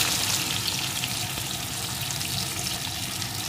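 Chunks of gathi kochu (taro) dropped into spiced oil in a pan, giving a steady, dense, close sizzle and crackle that holds at an even level throughout, with no voices over it.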